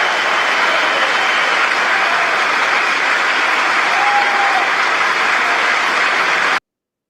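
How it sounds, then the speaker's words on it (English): Sustained, loud applause from a large audience in the chamber of the U.S. Congress during Netanyahu's speech, a dense even roar of clapping that continues steadily before cutting off abruptly. "They all clap."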